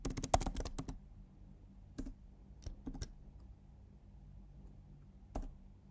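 Computer keys clicked in short bursts while typing Python code, a quick flurry of taps at the start followed by a few isolated keystrokes, close and fairly quiet against a low room hum.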